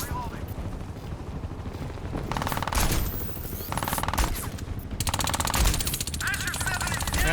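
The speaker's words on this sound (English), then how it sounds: "One more round of bullets ought to do it." Machine gun fire in the video game Crysis 2 Remastered, loud sustained rapid bursts of automatic shots layered over continuous game noise and rumble, with a short break between volleys.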